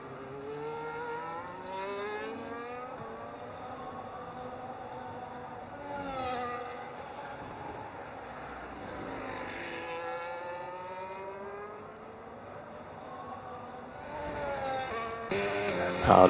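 Race cars brake into a chicane at the Singapore circuit in an online racing league, engines whining and dropping in pitch through downshifts as several cars pass, with a commentator's voice over the top.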